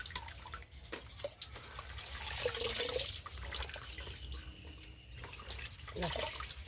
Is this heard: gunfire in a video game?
no